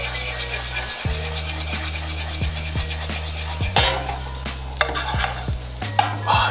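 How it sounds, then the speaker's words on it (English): Rice toasting with cumin in a hot pan crackles steadily while a utensil stirs and scrapes it, giving a loud sizzle broken by regular scraping knocks against the pan. "Now what we're doing here is we're toasting the rice"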